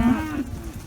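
A single cow gives a short, close moo in a harvested corn field scattered with leftover cobs, a brief low call that fades into quiet outdoor ambience.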